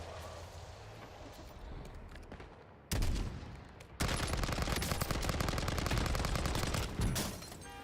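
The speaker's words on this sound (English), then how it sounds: "I just got sniped." Video game gunfire in Call of Duty Warzone, with a burst of shots and then dense, rapid automatic fire that goes on for several seconds at close range.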